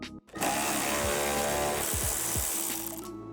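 A power tool whirs loudly and close while removing bolts beneath the headlights of a Ford F-150, a continuous high buzzing run with brief pitch dips, alone without talk.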